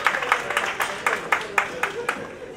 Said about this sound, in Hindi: जोरदार तालियां सिकंदर जी वास्ते भी